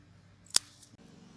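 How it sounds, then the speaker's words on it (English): Scissors give a single crisp snip as they cut a sucker off a tomato plant at its base, one sharp, close click in an otherwise quiet moment. "take a pair of shears or scissors and snip off right at the base"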